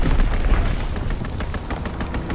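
Sustained strafing run of aircraft gunfire in a video game, a dense, continuous rattle of rapid shots with low booming rumble underneath, loud and steady throughout with no talk.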